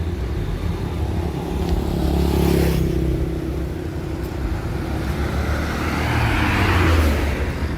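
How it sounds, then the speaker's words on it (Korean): Motorcycle engines hum and drone steadily as they pass along a street in Ao Nang, Krabi, on a weekday late morning, with traffic noise swelling and fading at moderate distance. "차들은 거의 없고 오토바이들만 왔다 갔다 합니다."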